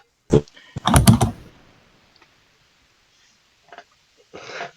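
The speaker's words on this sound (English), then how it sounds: "Gio's been typing something for the longest time" Computer keyboard typing, a dense burst of clicking keystrokes close by around the one-second mark, then a few faint isolated taps and a short final flurry, with no talk over it.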